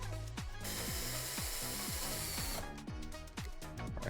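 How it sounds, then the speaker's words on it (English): Power drill boring a hole through scrap wood while building a garden bench, a steady whirring drone with repeated ratcheting clicks, close and fairly quiet, ending in a brief pause before the drill runs again. "So let me go ahead and drill another hole."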